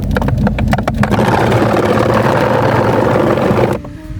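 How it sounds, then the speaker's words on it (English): A faulty HVAC blower motor in a 2012-2020 Chevy Sonic runs with a loud, steady whirring roar that holds for several seconds before cutting back to a quieter hum near the end. "So we've confirmed it. It is the blower motor."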